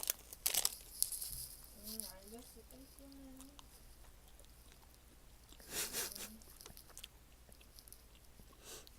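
GS25 gummy candy wrapper is torn open with crinkly rustles, followed by soft bites and chewing, with people talking and murmuring between the sounds.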